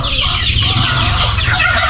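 Farm chickens cluck and squawk loudly and continuously at close range, several birds overlapping in a busy, unbroken flock chorus with no voices.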